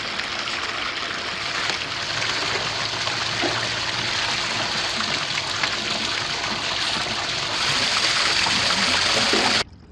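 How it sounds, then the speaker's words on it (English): Spa water draining down into a swimming pool after a fire, a steady broadband rush and gush of flowing water that holds constant throughout before cutting off at the end. "As the spa is draining down, you can brush all the ash down the drain."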